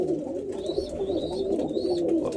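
Pigeons cooing close by, a steady low throaty coo rolling on without pause, with faint higher whistling notes over it and no talk.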